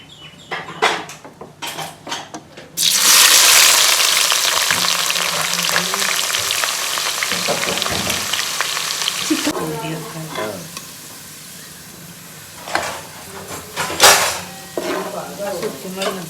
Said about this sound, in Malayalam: ഉള്ളി പൊരിക്കാം